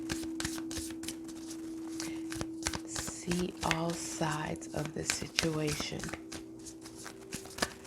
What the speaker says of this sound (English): why am I still shuffling these cards?